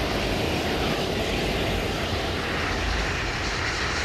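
An F-16 fighter jet flying from an air force base in Denmark gives a loud, continuous, broadband engine roar with a steady deep rumble and hiss that holds an even level throughout.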